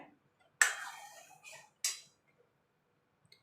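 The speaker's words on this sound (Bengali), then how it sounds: "আমি এইভাবে নেড়ে নেড়ে ঠান্ডা করে নেব" A spoon scraping and clinking in a pot of milk being stirred to cool it for coconut ice cream, three brief quiet scraping bursts separated by near silence.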